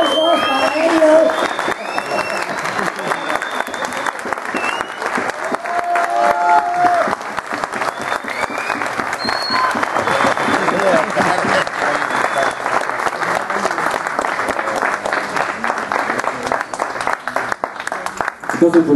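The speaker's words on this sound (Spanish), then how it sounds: "¡Aplausos para ellos!" Long, lively applause from an audience at the Fonoteca Nacional honoring Lora and Chela's 45 years, dense clapping with cheers and voices rising over it, continuing strongly throughout.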